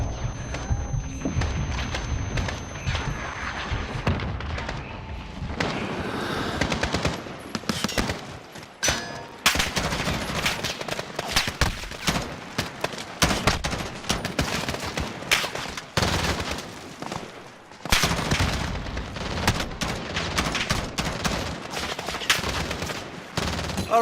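Grenades and gunfire in a video game battle: repeated heavy blasts and rapid bursts of shots crackle in close succession, loud and chaotic, with metallic clangs mixed in and no talk.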